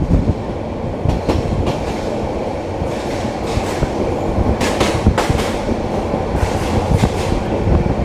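The Cox's Bazar Express runs through Laksam railway junction at a good speed at night, giving a loud, steady rumble of wheels on rails broken by sharp clacks and bursts of rattling over several seconds, with no voices.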